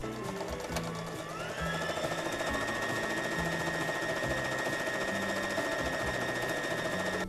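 Close, steady whirring of a sewing machine stitching the top seam of fabric strips for a patchwork scrap bag runs without pause for the whole stretch, with no voices.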